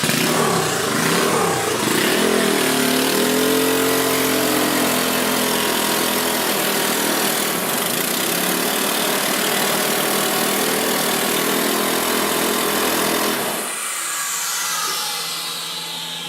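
Converted 150cc motor running loudly nearby, a dense buzzing engine roar with shifting revs for most of the stretch before it drops away toward a quieter idle near the end.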